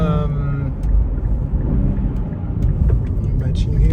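Engine of a 2022 Nissan Z with manual transmission and twin-turbo six-cylinder, a steady low rumble while driving, loud and close with a slight surge partway through.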